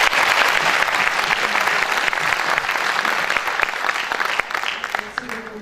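An audience applauds a woman just named businesswoman of the year in Puteaux, with sustained, dense clapping of many hands that holds steady and then thins toward the end.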